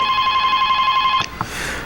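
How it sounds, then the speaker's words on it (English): A telephone rings loudly and close during a live show, a steady electronic trill that cuts off abruptly as it is answered, followed by a brief click. "Oh, we got a lot of phone calls tonight."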